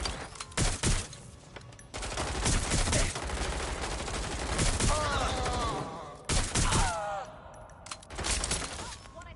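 Bursts of gunfire and automatic weapon fusillades from the video game Watch Dogs Legion, several loud volleys in quick succession with brief gaps, mixed with game voices and a person talking over the action.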